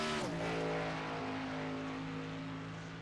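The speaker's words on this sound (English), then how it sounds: "Morosko, one of the first drivers so far here that I've heard actually shift. And man, did he shift" A racing kart engine on a track shifts gears once, its pitch dropping sharply before settling into a steady droning note that slowly fades as it moves away.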